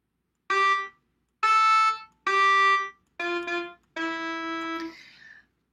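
Five gritty, buzzy synthesized sax notes with an overdriven edge, each a short separate blast, the last held longer and fading out.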